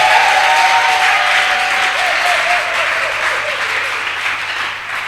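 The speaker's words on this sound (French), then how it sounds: "Tu peux acclamer pour toi-même. Acclame pour toi-même." A church congregation gathered for a day of prayer breaks into loud, sustained applause that fills the room, a dense steady wash of clapping that fades slightly toward the end.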